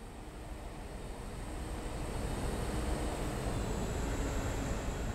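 A long diesel train in Train Simulator rumbles past with a steady, broad rolling roar that swells slightly as it draws nearer, alone with no talk.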